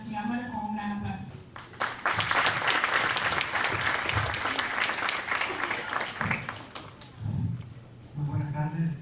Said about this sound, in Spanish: Recibámoslo con un gran aplauso.